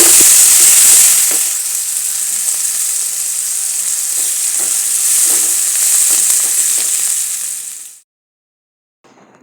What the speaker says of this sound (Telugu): ఇందులోనే ఎల్లుల్లిపాయలు కూడా వేస్తున్నాను అన్నమాట నేను.